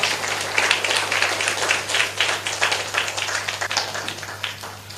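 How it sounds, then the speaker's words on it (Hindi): A church congregation claps for the Lord in a steady, dense patter of many hands, moderately loud and sustained, with a low hum running underneath. "ये प्रभु के लिए जोरदार तालियां।"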